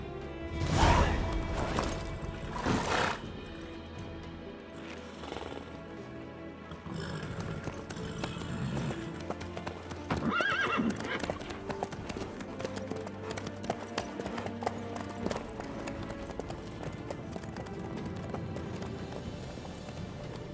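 Horse hooves clip-clop steadily in The Witcher 3, with a couple of louder thuds near the start and a continuous rhythmic trot carrying on over game music and ambient sound.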